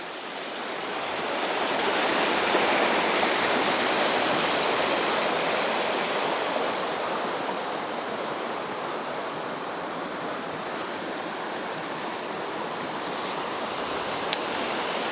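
A river rushes past waterfalls in Glen Lednock, a steady, full broadband roar of flowing water that holds close and even for the whole stretch, with no voices over it.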